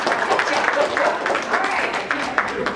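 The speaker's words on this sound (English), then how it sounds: "let's give this group a round of applause." An audience at an Envision Destin community meeting at Crystal Beach applauds a group, a dense, even wash of clapping from a crowd, mixed with voices.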